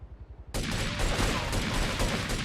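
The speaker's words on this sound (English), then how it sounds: "I'm guessing the sound it's doing there is it firing rocket launchers" Rapid bursts of explosive weapon fire from rocket launchers in the video game GTA III, a dense, loud barrage that erupts suddenly after a brief low rumble and continues without pause.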